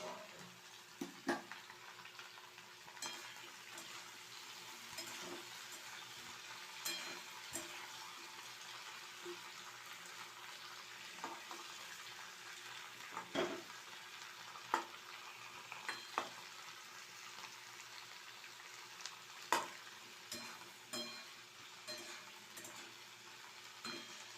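Steady low sizzle of cauliflower frying with occasional stirring scrapes and clinks against the pan, continuous and moderately quiet, no voices.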